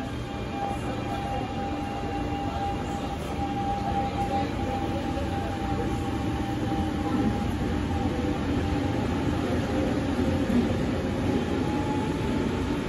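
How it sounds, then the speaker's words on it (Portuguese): A commuter train for Nova Iguaçu pulls in at platform 2 of São Cristóvão station, a steady loud rumble and wheel roar with a faint high whine, continuous and close, no talking. "Chegará a trem para Nova Iguaçu na plataforma 2"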